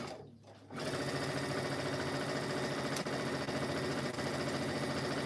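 A sewing machine stitches quilt pieces, starting after a brief quiet moment and then running in one continuous, even mechanical whir, close and steady to the end.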